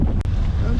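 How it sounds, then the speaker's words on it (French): Strong wind buffeting a microphone while cycling on a mountain bike with a trailer along the Canal du Midi under a darkening sky, a loud continuous low roar with brief dips. "Le vent redouble."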